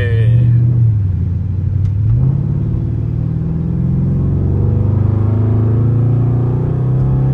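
A Mercedes car engine rumbles steadily up close, its low drone shifting in pitch as it idles and pulls away, with occasional soft clicks over the continuous hum.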